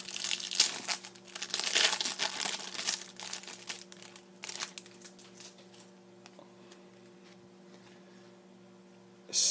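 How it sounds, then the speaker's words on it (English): Foil wrapper of a 1997-98 Donruss Preferred hockey card tin pack crinkles and crackles as it is unwrapped, loudest in the first few seconds, then thinning to faint rustles before a final burst. "the noise it makes when I unwrap"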